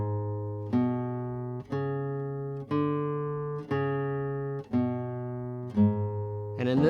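A classical guitar plays a boogie pattern in E, plucked notes stepping up and back down in a steady rhythm, close and clear with no voices.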